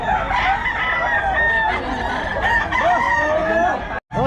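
Rooster crowing among gamecocks offered for sale at a market, several overlapping crows with clucking from other fowl, loud and close, then a brief drop to silence near the end.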